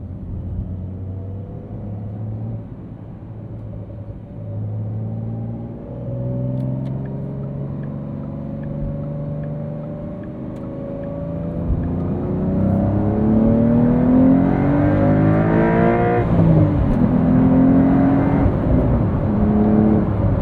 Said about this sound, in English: Got some little burbles on the down rev.